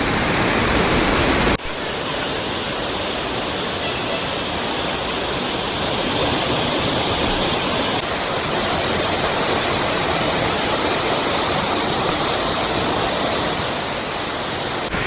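A waterfall in Cherrapunji, Meghalaya, roars as a steady, dense rush of falling water that stays loud and close throughout. After a brief louder burst at the start, the torrent holds without a break and no voices are heard.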